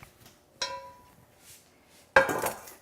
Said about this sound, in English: so now I'm gonna bring back my cast iron skillet